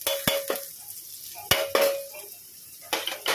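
Onion frying in a pan as crushed ginger and garlic are added, with scattered bursts of sizzling and sharp clinks of a utensil stirring against the pan in uneven, close-up clusters.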